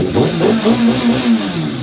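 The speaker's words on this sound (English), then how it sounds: "I'm going to give a few more revs." A Yamaha Thundercat 600R motorcycle engine revs up and down several times in quick succession, loud and close, with a rhythmic rising and falling roar.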